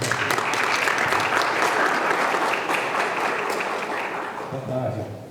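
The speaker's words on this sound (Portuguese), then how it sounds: "Uma salva de palmas." Sustained audience applause at an ICMBio presentation on wild boar management, many hands clapping steadily for several seconds and then tapering as a voice begins near the end.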